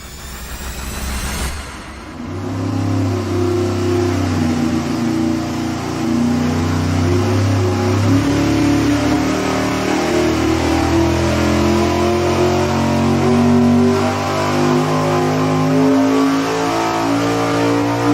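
A naturally aspirated engine on a dyno, part of supercharger testing, cranks briefly, then catches and roars loud and close, holding a steady high idle with rising revs and a sustained throaty drone to the end.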